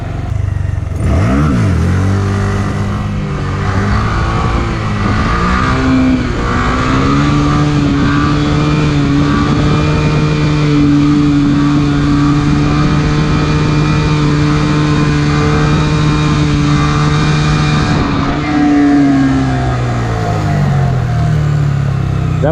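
A Honda Grom motorcycle engine climbs quickly to high revs and holds a loud, steady whine for a long stretch before the revs drop away near the end.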